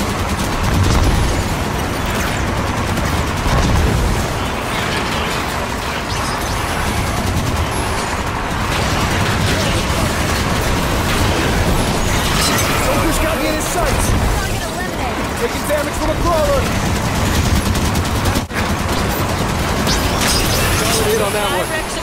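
Dense, continuous gunfire and combat noise fill a Halo 5 vehicle battle, loud and steady throughout, mixed with engine rumble and a game voice calling out status.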